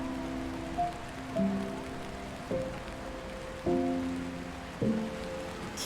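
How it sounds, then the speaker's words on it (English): Rain falls in the video game Until Then as a soft, steady hiss, with gentle tonal chimes sounding at intervals over it, and no voices. "Yeah, it's rain."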